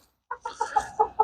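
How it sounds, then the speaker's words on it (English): Chickens, with roosters among them, cluck in a quick series of six short, close calls, each about a fifth of a second apart, against a quiet background. "Okay, update on the chickens. Rooster number 1,"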